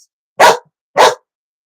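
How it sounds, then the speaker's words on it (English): A dog gives two sharp, loud barks close by, about half a second apart, with silence around them and no other voices. "Stop barking at me!"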